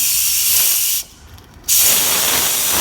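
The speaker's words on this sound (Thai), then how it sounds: "เราต้องมา ระบาย ไอ้น้ำออกก่อน" Steam bursts from the release valve of an electric pressure cooker as a loud, continuous hiss that cuts off briefly, then resumes just as strongly.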